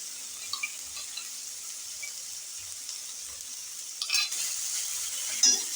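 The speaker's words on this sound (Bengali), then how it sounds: "আমি দু মিনিট অন্তর অন্তর কষিয়ে নিচ্ছি" Eggplant with dried loitta fish and spices sautéed in a pan, a steady high sizzle with faint stirring scrapes, swelling louder near the end as the mixture is turned.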